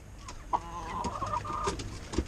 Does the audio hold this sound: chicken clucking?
yes